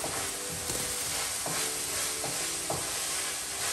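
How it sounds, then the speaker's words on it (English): Food fries in a home kitchen with a steady, close sizzle and scattered light clinks of stirring. There is no talking. "Mom's just cooking in the kitchen"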